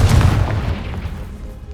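A Confringo fire spell bursts in the Hogwarts Legacy video game, a loud, deep booming explosion that rumbles and fades over under two seconds, with no talking.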